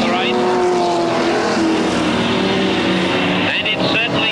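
Super sedan race cars roar past at speed on the Newcastle Motordrome speedway in 1979, a loud continuous engine blare that rises and falls as cars go by, with a commentator talking over it.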